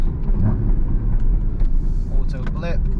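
A 2016 Porsche Boxster Spyder engine rumbles low and steady while driving, with a brief higher rev flare near the end, and a person talks over it.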